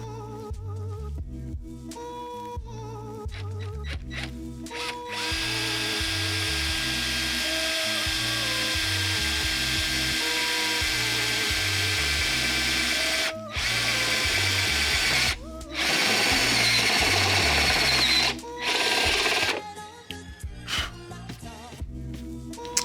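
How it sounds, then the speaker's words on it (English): A power drill whirs in several long bursts, drilling holes for a spoiler on a first-generation Toyota Sequoia SR5, the motor whining steadily under load, broken by short pauses and clicks between runs. "I'm just gonna drill out this hole and this hole from the bottom over here"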